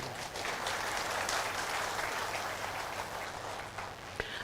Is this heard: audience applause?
yes